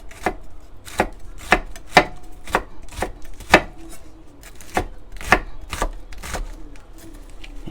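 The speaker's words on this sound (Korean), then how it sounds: "이런 식으로 고추를 길게 4등분으로 쪼갠 후에 이거를 잘 썰어 주시는 거예요" A knife chops green chili peppers on a cutting board after they are split lengthwise into quarters, with crisp, sharp knocks coming in an uneven rhythm of about a dozen close strokes.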